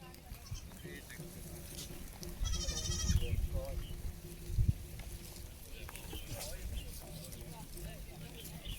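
Goats on a farm bleat in a short quavering burst near the middle, with shuffling and background voices talking throughout.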